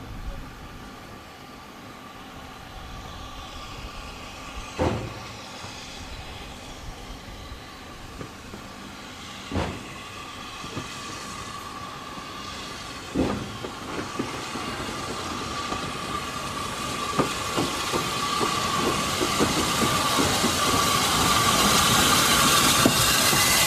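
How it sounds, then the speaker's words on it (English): A heritage steam train hauled by an Adams T3 locomotive approaches the station at Norden on the Swanage Railway, a low rumble slowly growing louder with several sharp clanks and rising wheel and hiss noise, no talking. "it was time to film the arrival of our train back to Norden"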